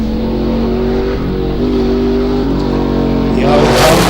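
A turbocharged race car accelerates at a hillclimb, its steady mid-pitched engine drone building into a louder rasping surge near the end, close and continuous.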